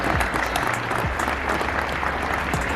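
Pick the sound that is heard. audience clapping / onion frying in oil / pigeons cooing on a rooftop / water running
audience clapping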